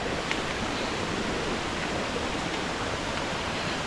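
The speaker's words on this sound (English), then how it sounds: "So every once in a while you pass a hillside of rock where there's water just pouring down into the creek" Water pours down a rocky hillside into a creek at Petit Jean State Park in Arkansas, a steady, full rushing roar that stays constant throughout, with no speech.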